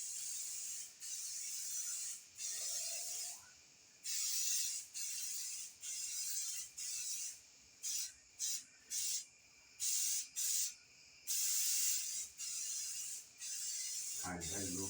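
An aerosol can sprays a light base coat onto a motorcycle part in a series of close hissing bursts of varying length, some short and quick, others longer, with brief pauses between them and a faint voice at the end.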